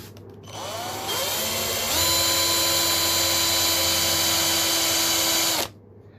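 A hand-held power drill bores into a board near its centre, spinning up with a rising whine, then holding a loud steady tone for several seconds before stopping abruptly, close and alone.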